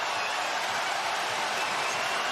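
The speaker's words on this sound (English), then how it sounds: "Listen to this crowd." A loud, dense roar from a basketball arena crowd at a Spurs vs Warriors NBA game, filling the whole clip as a steady wash of cheering with no clear breaks.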